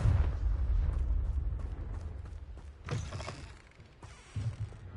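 The Confringo blasting spell in Hogwarts Legacy goes off as a heavy low boom that decays, followed by crackling bursts and a further thump, all loud and close, with no talk.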